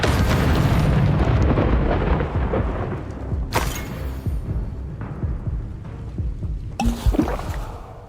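The Incendio fire spell cast in Hogwarts Legacy bursts as a loud, rumbling whoosh of flame. Sharper crackling blasts follow at about the middle and near the end, over a continuous roaring backdrop.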